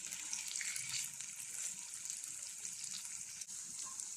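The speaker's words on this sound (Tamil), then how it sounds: "பன்னீர் நல்லா இந்த மாதிரி தோசைக்கல்ல போட்டு திருப்பி போட்டு ஃப்ரை பண்ணி எடுத்துக்கலாம்" Paneer pieces fry on a dosa tawa, giving a constant, fairly quiet hiss of sizzling oil with no voices.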